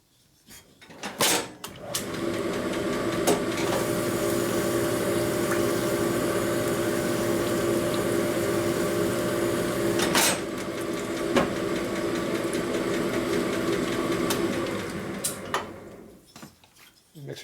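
A plateau hone works the bore of a 1957 Harley-Davidson Panhead cylinder being prepared for a drag bike, a steady grinding whir lasting about fourteen seconds, with a few sharp metallic clicks and knocks at the start and finish.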